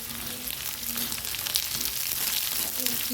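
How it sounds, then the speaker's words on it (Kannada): Ridge gourd pieces frying in hot oil in a pan give a steady, close hiss and crackle of sizzling throughout, with a faint low hum and occasional light stirring beneath. "ಎಣ್ಣೆ ಕಾದ ಬಳಿಕ ಹೀರೆಕಾಯಿ ಹಾಕಿ ಹೀರೆಕಾಯಿಯನ್ನು ಹುರಿದುಕೊಳ್ಳಿ"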